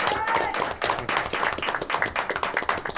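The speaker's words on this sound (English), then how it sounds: "Let's hear a round of applause for Darren Aquino" Late-night talk show audience applauding a guest, a modest crowd clapping with distinct rhythmic hand strikes, close and fairly loud, with faint voices mixed in underneath.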